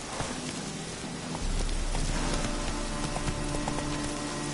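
Roach, a horse in The Witcher 3 video game, gallops with rapid rhythmic hoofbeats that thicken into a steady drumming run, under a rain-like hiss of background noise.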